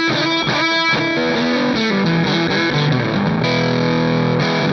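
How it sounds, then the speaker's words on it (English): A Gray Guitars Emperor S-type electric guitar plays a sustained melodic line through heavy fuzz distortion, thick and saturated with clear notes, alone and without talk. "Even with, you know, a bit of fuzz going on, you can still hear the notes."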